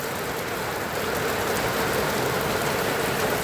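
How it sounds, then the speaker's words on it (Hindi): Rain falls steadily on a village outdoors, a dense, constant hiss of drops on surfaces without a break, fairly close, with no voices. "ये 2:30 बजे में बारिश हो गई है"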